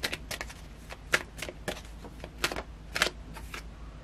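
Tarot cards shuffled and drawn for a reading: a series of crisp riffling and flicking bursts, near and fairly quiet, with no talking.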